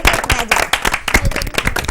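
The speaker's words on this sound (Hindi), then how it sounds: "नेक्स्ट सर नेक्स्ट आइए, तालियां" A small group claps in quick, uneven applause in a classroom, close and loud, with a few voices faintly mixed in.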